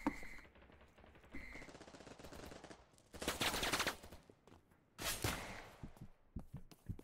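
Gunfire in a first-person shooter video game: several loud bursts of rapid shots, one long volley midway and another a moment later, with scattered single cracks and footsteps in between.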